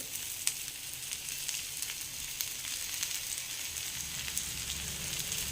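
Bajra flour thalipeeth frying in oil on a pan, a steady close-up sizzle with crackling pops that continues throughout with no talking.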